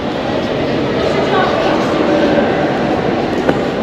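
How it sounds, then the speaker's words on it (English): A train rumbles continuously through a Warsaw metro station in Poland, with a faint squeal and a brief click near the end. "So this is how a metro station in Poland, Warsaw, looks like."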